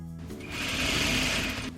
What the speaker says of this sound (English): I am going to sew 1/2 inch.